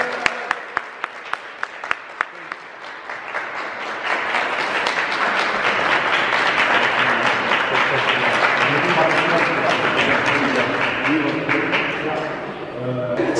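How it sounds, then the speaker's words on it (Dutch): Audience applause at a Dutch TV show taping, starting as a few separate claps and swelling after a few seconds into loud, sustained clapping from a crowd that holds to the end. "Iedereen klappen!"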